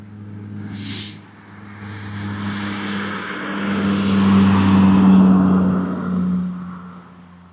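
A steady engine drone swells and fades as a vehicle passes close by, loud and rumbling for several seconds, with a brief high whine early on.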